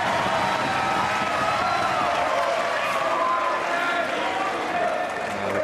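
Tennis crowd at the Australian Open 2014 second-round match between Kyrgios and Paire, a dense, steady roar of applause and cheering that fills the whole stretch without pause.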